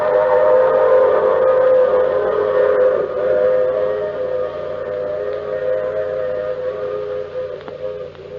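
A train sound effect in an old-time radio drama: a horn or whistle sounds steadily in long sustained tones over a low rumbling engine, loud and close, with no talking.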